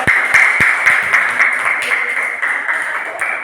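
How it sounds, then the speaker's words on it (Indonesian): Applause from a classroom of students for group 2 after their presentation, a brief burst of scattered clapping that thins and tapers off over a few seconds, heard close in a small room. "Silakan kasih tepuk tangan untuk kelompok 2."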